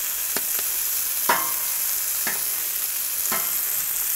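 Salmon and asparagus sizzle steadily on a Blackstone griddle outdoors, a continuous bright hiss with a few sharper clicks and scrapes of a utensil scattered through.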